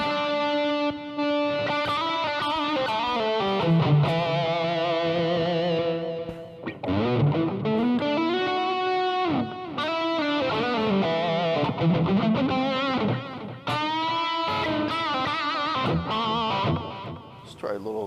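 Sustained electric guitar notes and bends from a 2007 Ibanez RG 350DX with reverb ring out with a washy, echoing tail, playing a slow melodic phrase for several seconds.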